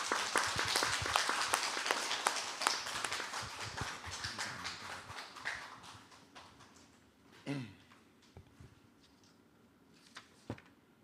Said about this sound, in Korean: 힘차게 박수로 맞이해 주시기 바랍니다